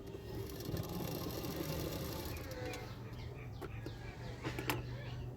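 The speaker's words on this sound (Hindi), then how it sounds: "इस तरह से फोल्ड करना है और उसको इस तरह से फोल्ड करके सिलाई कर लेना है" A sewing machine stitches down a folded hook strip on a boat-neck princess-cut blouse, a steady close hum running throughout with a few faint clicks.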